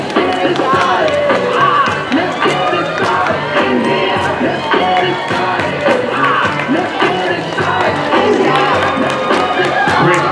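A crowd of spectators cheers and whoops at the finish of the L.L. Bean 10k race in Freeport, Maine, on the Fourth of July, loud and continuous, with shouting voices mixed throughout.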